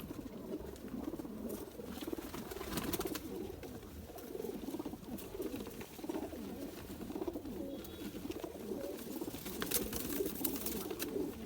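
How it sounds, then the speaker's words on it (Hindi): A male pigeon held in the hand gives soft, low cooing and fluttery rustling, faint and continuous throughout with shuffling handling noise close by. "मेल कबूतर है हाथ में"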